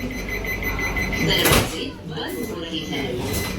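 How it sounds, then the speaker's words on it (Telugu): A Vande Bharat Express train's automatic sliding door whooshes shut with a brief rush and thud, while a steady beeping tone sounds and a voice talks over it. "ఇప్పుడు డోర్స్ ఆటోమేటిక్లీ క్లోజ్ అయిపోతుంది చూడండి క్లోజ్ అవుతుంది డోర్"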